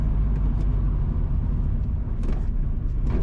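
Car driving south along the B3 Trout Hall to Chopperton Road from James Hill toward Taymount and Park Hall, Clarendon, Jamaica, giving a steady close low road rumble with continuous engine drone and tyre noise throughout.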